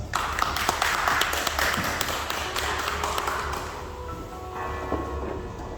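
Clapping from a seminar audience at a Korean AI and software development event, dense at first and gradually thinning as individual claps fade out toward the end.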